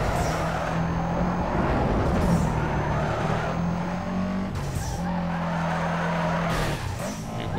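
Tires squeal and skid as a car spins out in NFS Underground 2, a long wavering screech over steady engine drone, repeating in drawn-out bursts and loud throughout.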